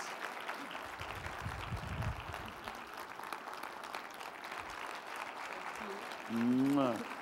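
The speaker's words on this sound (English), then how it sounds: "Let's give her a round of applause." At a chancellor's community breakfast, a room of guests applauds an award recipient in a moderate, fairly distant patter, with voices mixed in and a short tonal sound rising near the end.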